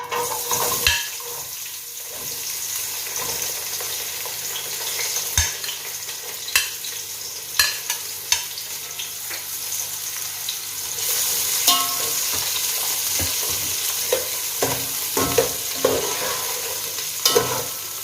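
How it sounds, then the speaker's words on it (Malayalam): Sliced onions dropped into hot oil and sautéing in a pan for chicken majboos: a continuous sizzle with scattered clinks and scrapes of a spoon, growing a little louder partway through. "എണ്ണ നന്നായി ചൂടായി വന്നിട്ടുണ്ട്. നമുക്കതിലേക്ക് നമ്മളെടുത്ത് വെച്ചിരിക്കുന്ന ഈ സവോള നമുക്കതിലേക്ക് ചേർത്ത് കൊടുക്കാം."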